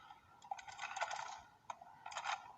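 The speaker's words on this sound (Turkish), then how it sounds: "Bir para sesi geldi ama" A coin drops into an arcade-style machine, giving a few faint, bright metallic clinks and rattles in two short bursts, close by and quiet.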